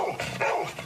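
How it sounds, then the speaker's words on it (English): A dog gives a short, close bark and yip, a single quick burst lasting under a second. "they presented Dr. Sonny the dog"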